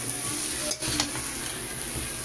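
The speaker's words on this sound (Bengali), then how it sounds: "ভালোভাবে বাঁধাকপিটা মিশিয়ে দিই।" Cabbage sizzles steadily in a frying pan while it is stirred and mixed, with a couple of soft scraping knocks over the continuous close hiss.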